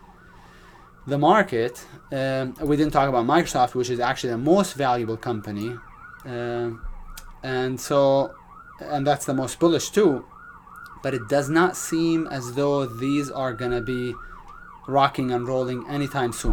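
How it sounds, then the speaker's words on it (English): Emergency vehicle siren wails steadily from the street below a high-rise building, a rising and falling tone running continuously under a man's nearly constant speech. "There's a firefighter or an ambulance or something going on downstairs."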